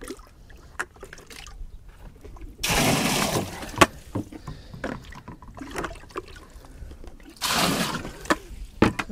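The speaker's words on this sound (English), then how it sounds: "Water's heated up on the stove, tipped in with a bucket" Hot water, heated on a stove, tipped from a bucket into a manual washing tub on the Isle of Man: two loud, broad sloshing pours a few seconds apart, each about a second long, with scattered clunks and knocks between them and no talk.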